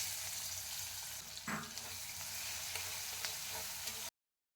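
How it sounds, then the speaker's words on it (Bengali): Chopped onions hiss steadily in oil left over from frying rohu fish, with a brief clatter partway through, before the sizzle cuts off abruptly. "এবার আমি মাছ ভাজার তেলটার মধ্যেই দিয়ে দেবো হলো পেঁয়াজ কুচি"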